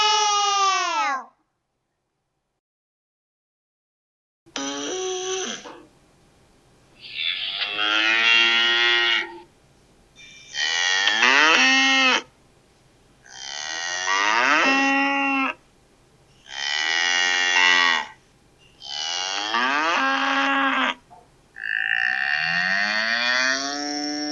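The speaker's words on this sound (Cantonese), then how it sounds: "嗚嗚，誰在叫？ 牛在叫。" A cow moos about seven times in long, drawn-out calls separated by short silences. The calls are loud and close, with no talking.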